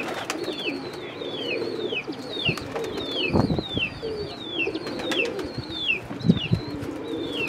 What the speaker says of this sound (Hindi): कबूतर काफ़ी हैं